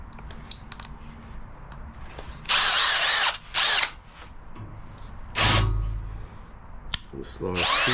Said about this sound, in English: Larger drill bit, you should slow down your speed.